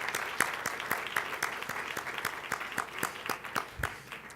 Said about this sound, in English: give a round of applause to the Senator for his great presentation